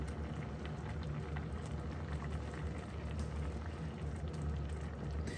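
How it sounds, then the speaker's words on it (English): Khatti dal simmers in a casserole pot, a soft steady bubbling and gentle popping that stays low and even from start to finish, with no voices. "that's just coming to a nice simmer now"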